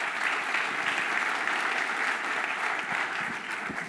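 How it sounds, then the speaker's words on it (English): A crowd at the Summer Summit 2017 awards session claps continuously as the founder and CEO is welcomed on stage, making a loud, even round of applause that holds for the whole stretch. "Please round of applause for Saeed."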